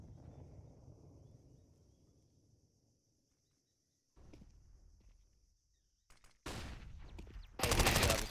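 MP5 submachine gun fire in Counter-Strike during an ESL Challenger League match on the Ancient map. A fading low rumble gives way to near silence, then loud, harsh bursts of rapid fire near the end.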